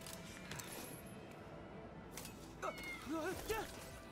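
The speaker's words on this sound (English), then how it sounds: "Oh, there's the cat." A cat meows in the video game Astral Chain, giving a few short rising cries late in the moment over a steady bed of game background sound.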